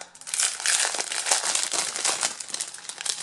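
Crinkly plastic packaging from a clothing haul being opened, a steady close-up rustle and crackle running unbroken throughout with no voices.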